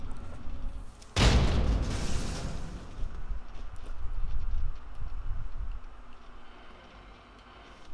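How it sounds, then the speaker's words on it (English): A grenade detonates in Fallout 3 with a single sharp, loud blast, followed by a rumbling tail that fades over several seconds, and no voices are heard. "And then we're going to throw that grenade right there."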